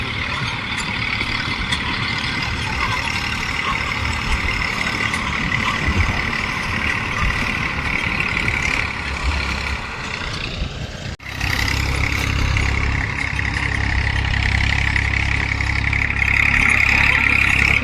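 A tractor engine runs steadily nearby with a constant mid-pitched rumble. Partway through there is a sudden shift, after which the engine sounds deeper and somewhat louder as it keeps running without a break.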